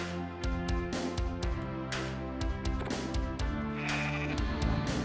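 A goat in the MS-DOS game Earthworm Jim bleats over and over, loud and close, its wavering calls coming in quick uneven bursts above a layer of game music.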